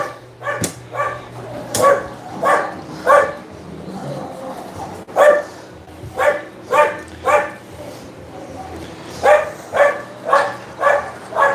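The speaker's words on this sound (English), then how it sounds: "alarm dog outside going crazy." A dog outside a home in the Philippines barks in loud, close bursts of three to five rapid barks, with short pauses and a few yips and whimpers between the volleys.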